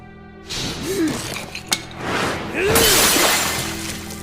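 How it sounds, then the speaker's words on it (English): A loud crash of shattering glass bursts out, followed by scattered tinkling debris and a second heavy smash, with background sound-effect noise. "that smash sound effect was absolutely perfect"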